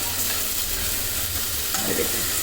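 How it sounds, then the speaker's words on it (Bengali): Tomatoes frying and being stirred in a pan for a masala liver bhuna, producing a dense, steady sizzle with soft scraping from the stirring, close and loud throughout, with no talk. "কিছুক্ষণ কষানোর পরে ভেজে কষিয়ে নিলাম যাতে টমেটোটা গলে যায়"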